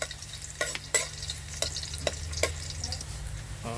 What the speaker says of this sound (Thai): คั่วกระเทียมเหลืองหอม เดี๋ยวเราก็จะพริกลงไปคั่วนะครับ